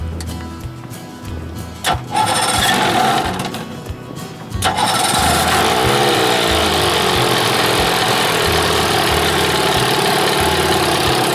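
An Evinrude 25 hp outboard motor idles steadily and loudly, its low rhythmic putter continuous after some irregular revving and clatter at the start.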